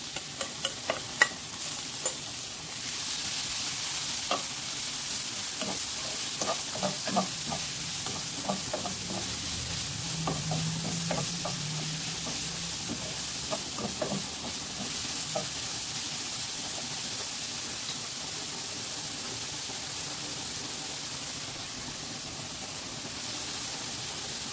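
Carrots and other vegetables fry in hot oil in a pan, a steady close sizzle and hiss running throughout with occasional stirring scrapes and clicks over it.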